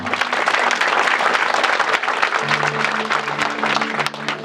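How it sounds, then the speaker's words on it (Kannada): A congregation at a gospel meeting in Badravathi claps loudly and steadily for the whole stretch, dense and close, while sustained keyboard-like tones hold underneath during the second half. "ಖಂಡಿತ ಅವರ ಸಾಧನೆಗೆ ಒಂದು ಒಳ್ಳೆ ಚಪ್ಪಾಳೆ ಕೊಡೋಣ"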